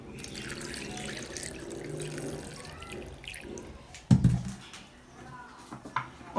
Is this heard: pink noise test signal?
no